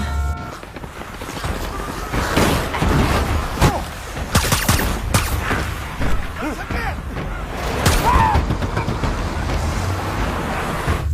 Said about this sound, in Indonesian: Tembak-tembakan pun terjadi.